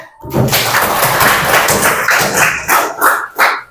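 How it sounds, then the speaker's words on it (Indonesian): A classroom of tenth-grade students breaks into steady, dense applause that fills most of the clip, with a few louder bursts of clapping near the end. "tepuk tangan"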